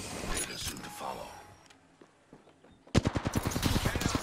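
Gunfire in the Apex Legends video game: a rapid close burst of automatic shots cracks out in a quick rhythmic string after a quieter stretch of distant shots and game noise.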